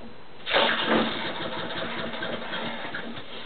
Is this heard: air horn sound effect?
no